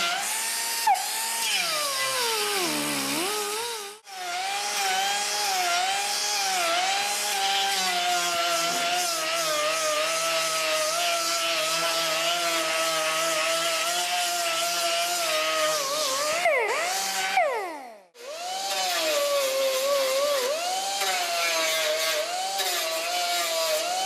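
An air sander with 50 grit paper grinding weld on a steel lower repair panel of a 1961-76 Triumph TR4 or TR6 front fender, a high continuous whine that dips and surges in pitch as the tool is loaded, with two brief pauses.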